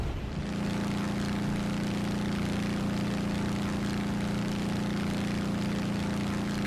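A steady, droning piston engine of an F8F Bearcat fighter climbs in the War Thunder video game, holding an even, unbroken hum throughout with no voices over it.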